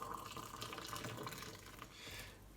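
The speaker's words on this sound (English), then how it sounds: "In goes the boiling water." Boiling water poured from a kettle into a cup in a home kitchen, a steady, fairly quiet splashing stream running for a couple of seconds with a faint rising fill tone near the end.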